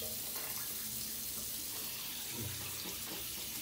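Bathroom tap water running while someone shaves, a steady close hiss of water flowing into a sink, heard alone without talk.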